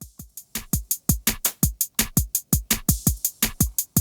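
A Yamaha SEQTRAK plays a programmed drum pattern of crisp, evenly spaced electronic hits at a brisk steady tempo, with hi-hat and open hi-hat ticks between punchier beats, and no voices.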